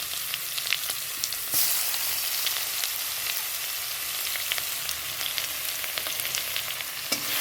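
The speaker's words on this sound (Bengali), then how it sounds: "প্রথমে দেব রসুন দিচ্ছি আদা দিলাম" Garlic and ginger fry in a pan as the base for a whole-spice chicken curry, an even, close sizzle with scattered stirring clicks and sharp spatters throughout.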